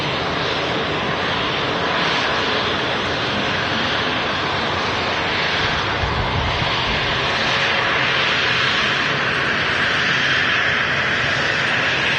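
An Air Portugal Embraer airliner arriving from Lisbon to land at Manchester Airport, a loud continuous roaring jet engine wash that holds steady and broad throughout, with no voices.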